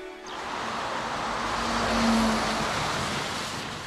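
A car drives along the road toward Bonn, its engine and tire roar a steady, broadband wash that swells slightly midway, heard from inside or close by with no one talking.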